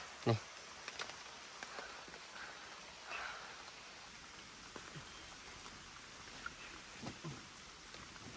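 Rain falling steadily in a forest, a dense, even hiss of drops on leaves and surfaces with occasional louder nearby drips and splashes, continuous throughout at moderate level.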